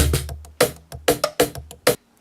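Sharp cajon sample hits played on drum machine pads, a deep bass thump followed by several crisp slaps in an uneven groove, close and clean, ending in quiet.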